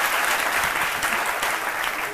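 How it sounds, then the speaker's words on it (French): Sustained audience applause fills a studio for a French-language midday TV show as a guest takes his seat, a dense, steady wash of many hands clapping at close range with no pauses. "Merci encore, très cher public, de l'applaudir pendant qu'il s'installe."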